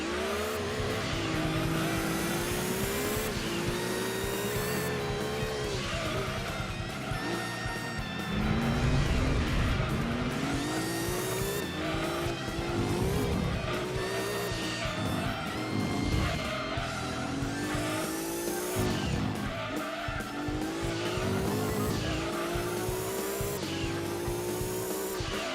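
Supercars race around a tiny track with almost no straights in Gran Turismo 2, their engines revving and shifting constantly with repeated tire squeals as cars pass, loud and continuous throughout.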